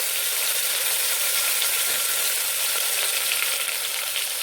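Tomatoes, chillies and curry leaves hit hot oil with dried red chillies and fenugreek for Gujarati dal dhokli, making a loud, steady, close sizzle that continues without a break.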